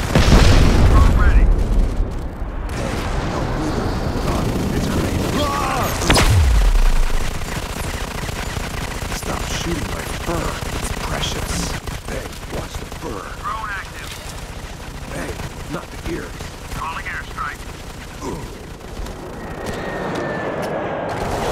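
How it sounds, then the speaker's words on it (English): A grenade going off in the shooter game Modern Combat 5: heavy booms, the loudest shortly after six seconds, amid continuous gunfire and battle noise, with voices now and then. "It's a grenade."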